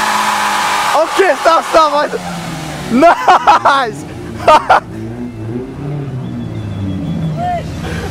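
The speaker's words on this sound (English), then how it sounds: "Yeah, e-brake and spin tires." A car spinning its tires with the e-brake set while cruising on the street, loud engine revving and tire roar underneath excited shouting and chatter from a group of people.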